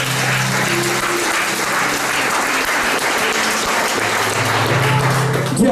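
A church congregation at a French-language service breaks into loud, sustained applause, a dense wash of clapping hands that fills the room close by and carries on steadily from start to finish.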